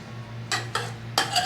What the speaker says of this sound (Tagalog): mix well lang guys para maghalo-halo yung ingredients natin